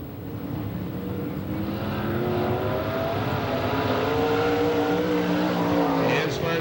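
Phil O'Donnell's red and yellow number 27 race car on a qualifying lap at a 1993 STARS Hillbilly 100 event, a steady distant engine roar with a slowly rising pitch and little change in loudness.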